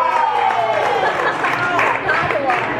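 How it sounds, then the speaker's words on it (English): A room of people cheer and clap together, a loud mass of whooping voices over scattered applause that holds steady throughout. "I want to gauge the room here by clapping and cheering."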